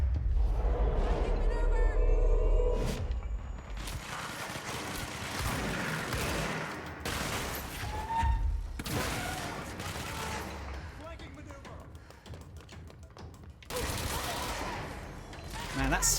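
Rapid, sustained automatic fire from the spin gun in the video game Control comes in dense, loud bursts with brief pauses, while someone talks over the gunfire.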